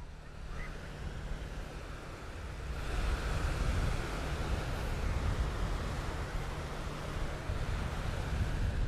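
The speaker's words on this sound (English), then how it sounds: "The sea is not that rough today, actually, at all." Calm sea waves wash onto a beach in Tanzania, a steady broadband surf roar with gentle swells, swelling louder partway through, with light wind noise and no talking.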